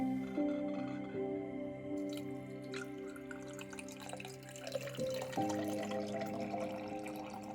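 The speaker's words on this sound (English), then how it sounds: "I'm going to go ahead and add the water into the jar" Water splashes and trickles steadily into a glass jar nearby, its pitch shifting as the jar fills, quiet and without talking.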